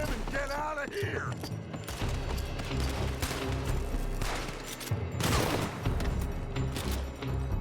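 Rapid bursts of gunfire ring out in a Red Dead Redemption 2 shootout, shots fired from a building, loud and sustained with booms and mechanical clatter under shouted voices.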